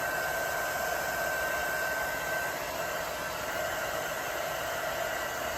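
A heat tool blows on an alcohol-ink tumbler, giving a steady, unbroken rushing hiss with no talk.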